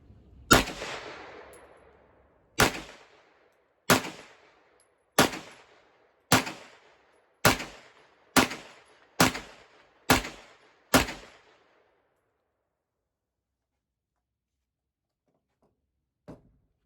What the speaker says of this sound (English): We're shooting the Winchester target practice rounds, 115 grain first.